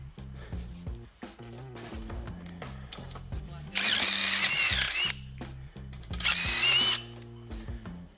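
A power tool honing out a hole to fit an M16 rivet nut during a mini bike restoration, two loud high whirring bursts over a steady background with lower mechanical hum between them.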